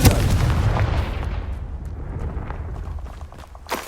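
A Confringo fire spell in Hogwarts Legacy bursts with a heavy, booming blast that rumbles and fades over several seconds. A smaller crack follows near the end.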